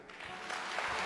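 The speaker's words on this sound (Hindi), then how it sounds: "अपने लिए ताली बजाओ" An indoor audience at a devotional gathering breaks into applause, a faint, dense patter of clapping that swells slightly over about a second.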